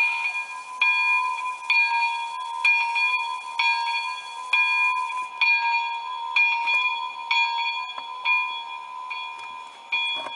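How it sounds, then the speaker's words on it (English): An electronic bell chime triggered from a keypress rings in repeated struck tones, each ringing on with a bright metallic sustain and gradually fading, the strikes recurring about once a second, clear and close, with no talking. "Now press F1 again. And it's nice the way that bell fades out."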